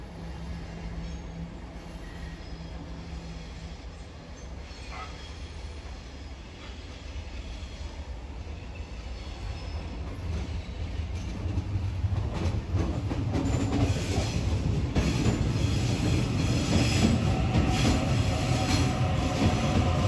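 A Series 1 Waratah electric commuter train rolls into Sydenham Station in Sydney, its rumble and wheel clatter growing steadily louder and nearer, with faint squeals and no voices.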